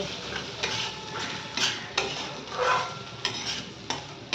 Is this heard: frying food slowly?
yes